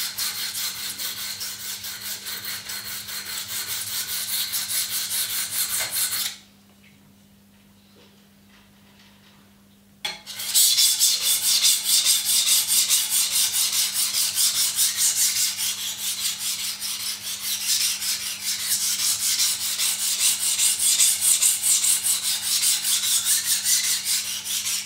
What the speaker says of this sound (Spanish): fijándoos en cómo pasa la hoja por encima del diamante, en cómo tengo puesta la mano con la que sujeto el cuchillo